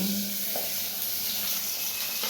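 Pabda fish curry simmers in a pot with a steady close hiss and bubbling sizzle that holds level throughout, with faint clatter in the background.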